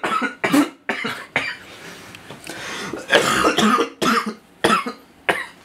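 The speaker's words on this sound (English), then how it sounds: "I need to cough" A series of harsh, sharp coughs in quick bursts, close and loud, with short pauses between fits and a throat-clearing rasp.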